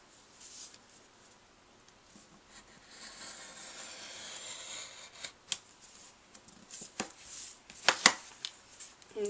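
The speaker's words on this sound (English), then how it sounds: "I should have cut that one more time with that X-Acto knife." An X-Acto knife scores and slices through a plastic DVD case, quiet scraping at first, then a series of sharp clicking cuts growing louder toward the end.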